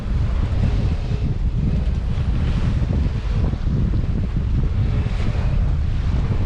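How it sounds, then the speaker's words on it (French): Strong wind buffets the microphone while a sailboat crosses rough sea at the Raz de Sein off Finistère, a loud, constant low rumble of gusts and breaking water with no voices. "La mer a changé du tout au tout."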